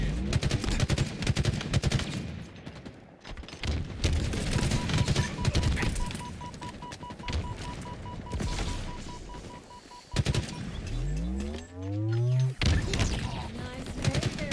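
Dense rapid gunfire and bursts of automatic weapons in a Halo pro league match, loud and continuous, with a sharp grenade blast and a rising weapon whine toward the end, game voices faintly beneath.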